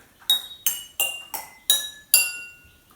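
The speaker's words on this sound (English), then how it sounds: "I'm in the kitchen with some BBQ skewers and some different size glasses." Six close, crisp taps of barbecue skewers on kitchen glasses of different sizes, each clink ringing at a different pitch and fading quickly, played in a steady sequence.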